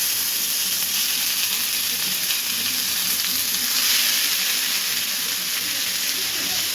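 Nigella seeds and ground tomato fry in hot oil, giving a steady, loud sizzling hiss that continues evenly throughout with no talking.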